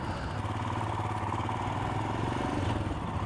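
Royal Enfield Himalayan 411 motorcycle on a ride, its single-cylinder engine thumping steadily and close with wind rush layered over it, continuous and fairly loud, no speech.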